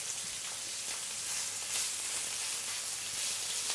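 Beef frying in fat with rosemary, thyme and garlic, a steady close sizzle with faint crackles throughout, no talking.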